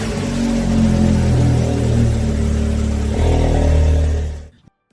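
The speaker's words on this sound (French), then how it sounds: "est allé faire tourner la voiture et elle a démarré avec lui normalement dès le premier coup" Engine of a 2022 Audi R8 running smoothly after an oil change, a steady close idle hum with slight revving, then cutting off into silence at the end.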